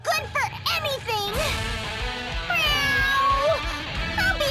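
A voice imitates a cat's meow in the Bravely Second: End Layer video game, several drawn-out, wavering meows in quick succession with a few spoken words mixed in.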